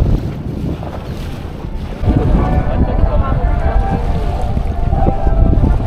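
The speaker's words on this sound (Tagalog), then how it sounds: "Ito na yung ating bangka at kasakay na ang Apo Ana" A boat's engine rumbles over rushing water and wind buffeting the microphone, with voices faintly mixed in, during a river fluvial parade in Orani, Bataan, Philippines.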